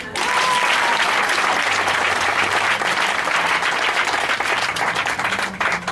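A church congregation bursts into sustained, dense applause at a worship service, loud and steady throughout with a slight thinning near the end.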